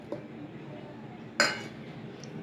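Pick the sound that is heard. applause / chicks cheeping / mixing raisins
mixing raisins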